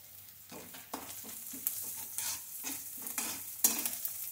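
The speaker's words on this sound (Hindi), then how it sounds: "अब हम इसमें ग्रेट किया हुआ अदरक डाल देते हैं।" Grated ginger fries with golden-browned onion in a pan, a quiet steady sizzle punctuated by a regular series of spoon strokes and scrapes against the pan.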